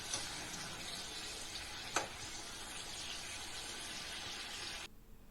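Amla (Indian gooseberries) fry in a pan of oil for chutney, a steady close broadband sizzle with one brief clatter near the two-second mark before the sound cuts to quiet room tone at the end.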